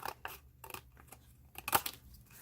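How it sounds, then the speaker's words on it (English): Scissors cut paper along a drawn pencil line while a coffee cup gift card holder is being made, giving several short, close snips and rustles in a quiet room. "Then I'll get my scissors and I'm just going to cut it up on the line"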